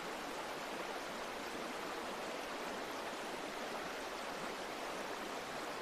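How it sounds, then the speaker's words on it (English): Water lapping gently against wooden piers below a quiet New York waterfront at night, a steady soft wash of water with no distinct splashes, continuous and even throughout. "You hear the water lapping gently against the wooden piers below."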